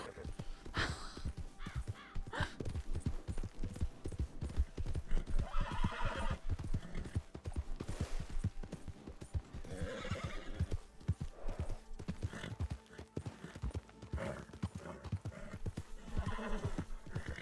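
Hooves clip-clop in a fast steady gallop with a horse neighing over the top in the video game RedM, loud and continuous, with birds cawing in the mix.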